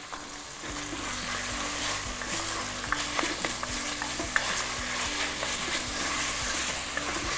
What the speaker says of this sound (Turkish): Tenceresi kaynıyor. Kıymalarım kavruluyor.